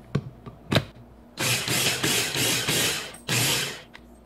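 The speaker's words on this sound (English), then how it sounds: "Transfer it over to a small food processor." A small food processor blends white bean soup (Greek fasolada) in several loud, grinding whirring bursts of about half a second each, preceded by a few sharp clicks.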